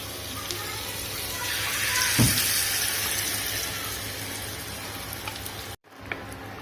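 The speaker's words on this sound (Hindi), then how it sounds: "इस वक्त जो ये हमारे पास ग्रेवी है वो इसमें डाल देते हैं।" Butter chicken gravy goes into a hot pan over a medium flame and sets off a steady, watery sizzle with a soft splash as it lands, then cuts off abruptly near the end.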